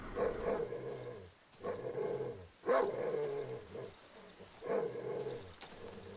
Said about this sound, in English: Where's that other dog? I hear it.